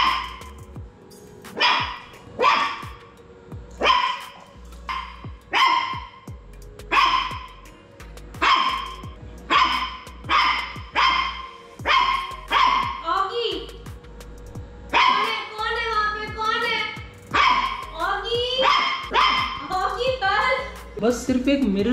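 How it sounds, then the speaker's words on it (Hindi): A dog barks at its own reflection in a mirror, a long run of sharp, close barks and higher yips with short gaps between them. "हाँ, भौंक रहा था तू इस पे।"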